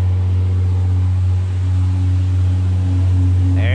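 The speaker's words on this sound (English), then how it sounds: "This girl drives by here in this diesel truck like 3 times a day" A loud diesel truck rumbles past with a heavy, steady low drone that holds throughout and swells slightly near the end, with no talk over it.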